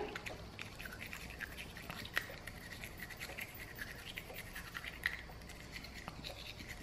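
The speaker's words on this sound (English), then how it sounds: "And then I just go all around her mouth with the little toothbrush." A small toothbrush scrubs a Shih Tzu's teeth in quick, faint scratchy strokes, with a couple of sharper clicks against the teeth.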